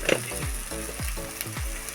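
Mashed peas frying in hot oil in a kadai with turmeric powder, a steady close sizzle broken by a few soft stirring scrapes, no talking.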